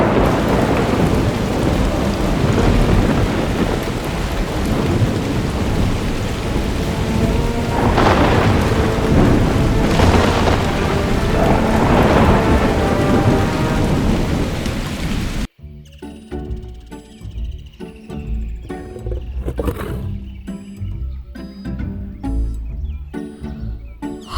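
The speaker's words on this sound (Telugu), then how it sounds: "ఒక రోజున అకస్మాత్తుగా భారీ వర్షం మొదలవుతుందక్కడ" Heavy rain pours steadily with rolling thunder in a jungle storm, loud and continuous, then cuts abruptly to a quieter, different scene with scattered sounds.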